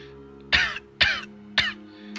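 A voices an imitation of coughing, three short harsh bursts spaced roughly half a second apart, close and fairly loud over a steady low hum.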